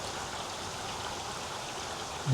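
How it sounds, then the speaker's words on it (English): Heavy rain pours steadily outdoors, a dense, even hiss of water with no other sounds over it, ending in a short louder knock. "It's raining now, it's pouring."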